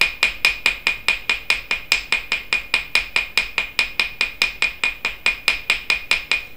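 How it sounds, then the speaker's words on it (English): A ball hammer strikes wire on a hard surface to flatten a paddle end, about thirty sharp metallic taps in a fast, even rhythm, close and clear with no talking. "ball hammer, you definitely want to make sure that you go on both sides at all times"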